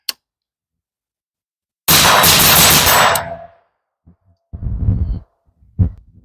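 Rifle shots fired from a sturdy barricade at steel targets ring out loud and close: one sharp crack at the start, then a long dense blast burst, followed by further shots and fading impacts.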